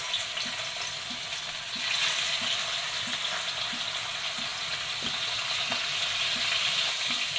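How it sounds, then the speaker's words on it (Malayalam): Fish frying in hot oil in a pan for a fish curry: a steady, close hiss of sizzling grease runs throughout, swelling slightly louder about two seconds in, with faint pops and utensil taps. "ഓയിൽ ചൂടായിട്ടുണ്ട് അതിലോട്ട് മീൻ കൊടുക്കാം"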